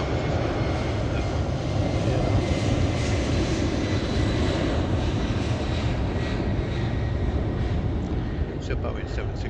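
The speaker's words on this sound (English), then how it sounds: "It's a Boeing 767." A Boeing 767 jet at Heathrow gives a broad, steady engine roar that holds at a constant loud level throughout, a sustained rushing wash of aircraft noise with no gaps.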